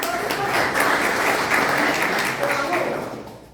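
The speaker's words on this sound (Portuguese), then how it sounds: "Palmas para o Silvio." Steady, dense applause from an audience at a lecture on accessibility in condominiums, loud and continuous for the whole stretch before it starts to fade near the end.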